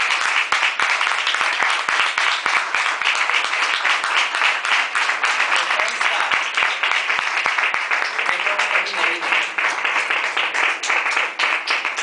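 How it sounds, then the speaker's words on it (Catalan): Sustained, dense applause from an audience at a photography prize ceremony in l'Alcora, steady and loud for about twelve seconds with a voice faintly underneath. "demane un fort aplaudiment"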